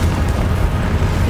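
A Confringo explosive spell bursts in Hogwarts Legacy as a dense, loud, rumbling blast that fills the moment with deep continuous booming and no pause.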